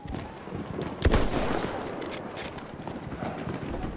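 Gunfire in the video game Battlefield 1: one sharp crack stands out near the middle, over a continuous rough wash of distant shooting and battle noise.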